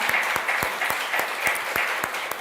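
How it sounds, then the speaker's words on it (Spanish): Steady applause from a church congregation fills the room, a dense wash of clapping with a few louder individual claps standing out. "Un aplauso al Señor por eso."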